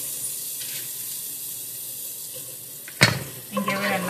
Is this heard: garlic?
yes